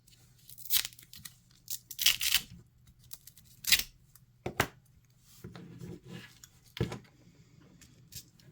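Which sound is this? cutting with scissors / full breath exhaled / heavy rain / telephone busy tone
cutting with scissors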